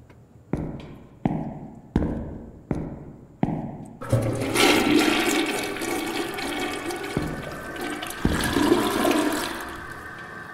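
A toilet flushes in the horror game Toiletrooms: a series of six sharp knocks or clicks first, then a loud, sustained rush of water swirling and draining, close and alone without speech.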